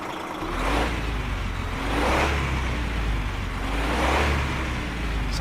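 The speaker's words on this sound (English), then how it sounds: "Gotta love the sound of this truck when it stops up. This is actually a mod" Modded truck engine in Euro Truck Simulator 2 coming to a stop, a steady throaty low rumble with three slow swells of revving and hiss, loud and alone with no talk.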